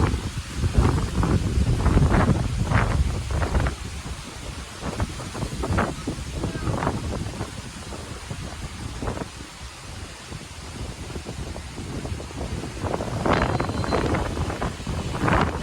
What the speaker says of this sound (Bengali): প্রচণ্ড বাতাস বইছে, নদীর পানি তো প্রচণ্ড ঢেউ।